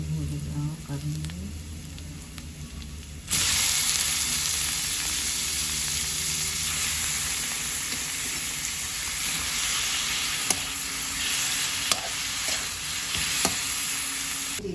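Meat sautéing with browned onions in a pan for ginataang sitaw: a loud, steady sizzle jumps in after a quieter start and continues with a few sharp clinks of a utensil.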